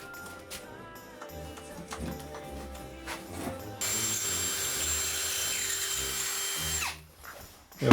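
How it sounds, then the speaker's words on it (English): A power drill bores a hole during a UK home renovation, a loud steady whine lasting about three seconds after quieter clatter and handling, then stopping abruptly. "You drill a hole"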